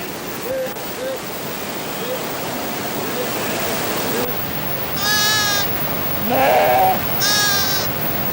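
Sheep bleating several times in the second half of the clip, near and fairly clear, over a steady rushing mountain stream with no talk.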